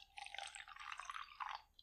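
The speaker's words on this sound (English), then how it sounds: "And then take some water and pour it in there." Water poured into a small cup while weathering a Lego Star Wars Clone Trooper figure, a short close trickling splash lasting under two seconds, quiet and alone with no talking.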